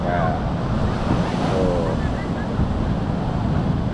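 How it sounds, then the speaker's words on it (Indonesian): Big surf pounds a south-coast beach in a steady, loud roar of breaking waves with wind buffeting the microphone, and a single short spoken syllable cuts in briefly. "Airnya gede banget, ombaknya."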